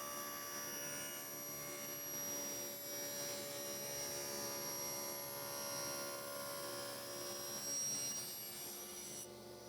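A table saw runs while cutting a plastic cutting board into narrow strips, giving a steady whining motor hum with a rising cut noise, close and moderately loud, no voices.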